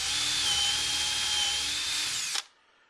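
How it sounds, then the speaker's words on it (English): Close, loud, continuous whine of a power drill driving a bit down through a Rockler shutter system drilling jig template until it bottoms out, then the motor cuts off and spins down to near silence. "drilling down till it bottoms out"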